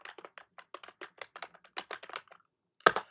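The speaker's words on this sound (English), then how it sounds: "I'm typing my username and password" Quick irregular keystrokes on a computer keyboard while entering login details, a run of light close clicks followed by a brief pause and one sharper final press.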